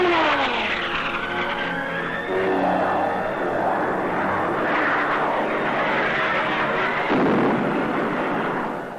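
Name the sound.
American and Vietnamese military planes flying over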